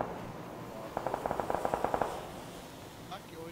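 A quick burst of about a dozen evenly spaced automatic gunshots in PUBG, mid-distance and fairly crisp, followed by quieter game ambience with people talking lightly around it.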